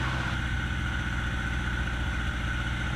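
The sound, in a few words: Piper PA-18 Super Cub aircraft engine during pre-flight run-up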